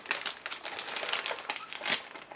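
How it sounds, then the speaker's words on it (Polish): Protective plastic foil around a 50-złoty commemorative coin is crinkled close to the microphone in irregular sharp bursts of crackling, with no speech over it. "Ona oczywiście jest zapakowana w folie ochronnej."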